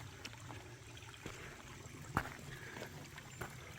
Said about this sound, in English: this little creek's running much faster after raining all night